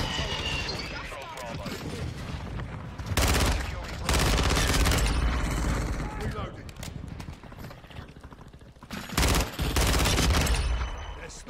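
Loud bursts of rapid automatic gunfire and explosions ring out in a Call of Duty Hardcore Shipment match, alternating with quieter stretches, while players talk over the action.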